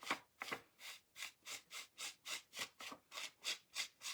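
A sponge is rubbed briskly over a gilded-leaf stamped flower to clear away the excess leaf, producing about a dozen steady, evenly spaced scrubbing strokes, close and fairly loud, with no talking.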